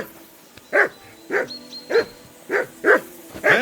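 A dog barks six times in a steady rhythm in Kingdom Come Deliverance 2, loud close woofs spaced about half a second apart with no talking.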